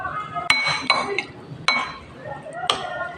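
Raw oyster kinilaw is stirred in a bowl, with a few sharp clinks of a utensil against the dish at irregular intervals, close and fairly quiet.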